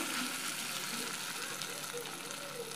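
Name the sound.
frying sabudana vada in hot oil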